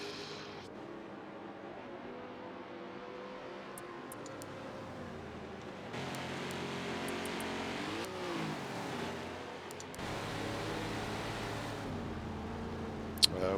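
Historic Trans Am race cars run at Lime Rock Park, a steady engine drone that rises and falls as the cars pass and shift, heard at moderate distance over several seconds without talk.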